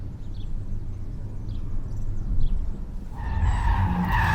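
Tires of a 2024 Renault Scenic E-TECH skidding through a moose test evasive lane change on a test track, a rising scrub over steady road roar that sharpens into a loud squeal near the end.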